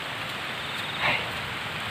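Steady rain falls during the wet season on a path between rice paddies, a constant close hiss of drops with a brief louder spatter partway through and no talking.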